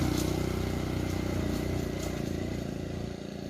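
A motorcycle with a basket hauling palm oil fruit bunches on a plantation runs with a steady, close engine drone that eases slightly toward the end.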